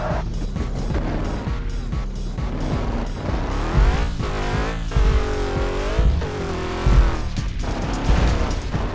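An animated car drives hard, its engine revving up and down continuously with squealing tires, loud and close throughout with no talk.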